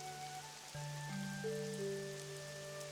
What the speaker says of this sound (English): We're just gonna sit and enjoy the ambient rain